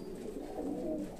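Pigeons cooing softly in a rooftop loft in Egypt, a low rolling coo close by, repeated across a short moment with no talking.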